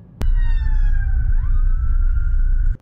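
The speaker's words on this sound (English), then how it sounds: "Ambulance." An ambulance siren wails loud and close in slow traffic, a steady two-tone sweep that dips in pitch as the vehicle passes, over a low road rumble.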